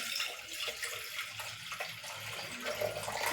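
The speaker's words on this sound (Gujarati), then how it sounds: "હવે આપણે આમાં જે કુકર હોય તેમાં ગરમ પાણી એડ કરીશું" Hot water poured into a pressure cooker holding dal, a steady splashing pour that runs continuously and fairly close throughout, with no talking over it.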